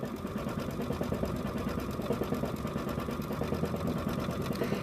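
An embroidery machine stitches out a frosting design with a rapid, steady mechanical chatter and even rhythmic pulses, close and continuous throughout.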